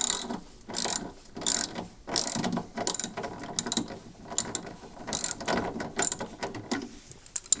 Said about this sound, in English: use a ratchet to undo this nut at the bottom that holds it in place